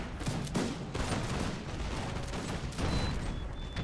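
Massed musket fire crackles in rapid overlapping volleys during a Napoleonic battle in Imperial Splendour with Prussian troops, steady and loud throughout with occasional heavier booms and no voices.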